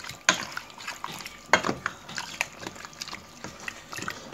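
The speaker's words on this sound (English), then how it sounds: "I'm going to mix our cocoyam and pour into it" Thick cocoyam paste goes into a pot of bitter leaf soup with close, wet plops and splats, then irregular small drips and gloopy slaps as it falls in.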